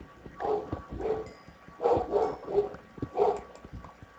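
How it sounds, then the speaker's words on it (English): A dog barks in a quick series of short, mid-pitched woofs indoors, clustered in bursts with brief pauses, fairly close and alone without talk. "There's my dog, if you can hear him."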